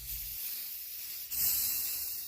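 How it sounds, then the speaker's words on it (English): Black spray paint hisses from an aerosol can onto a mason jar, a faint hiss that pauses briefly, then a louder, closer sustained spray burst. "that black spray paint that we're using, and we're going to give this a nice coat of it"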